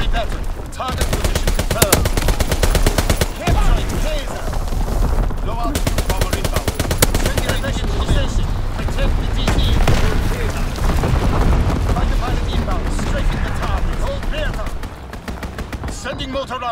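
Dense, sustained gunfire from a strafing run in Call of Duty WWII Domination on the Shipment 1944 map, rapid machine-gun bursts and booms roaring almost continuously with game voice callouts mixed in.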